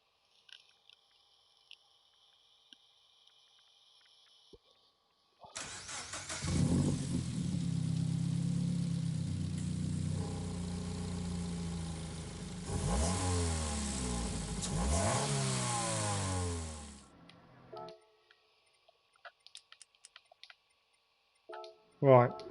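A Subaru BRZ in the racing game Gran Turismo Sport revs loudly and steadily for about ten seconds, its engine note rising and falling through gear changes before cutting off, with quieter sounds at the start and end.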